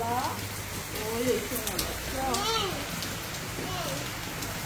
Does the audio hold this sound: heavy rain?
yes